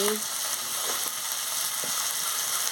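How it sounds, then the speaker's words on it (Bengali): Brinjal curry sautéing in a pan with a loud, continuous sizzle and a few soft stirring scrapes close by. "দিয়ে ভালো করে কষিয়ে নিচ্ছি"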